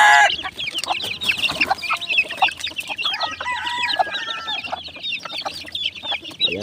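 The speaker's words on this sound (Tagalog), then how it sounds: "ang ating mga sisiw" Young chicks peep almost nonstop in a small backyard chicken coop, a dense layer of high, chirping calls close by with a few fuller hen clucks mixed in.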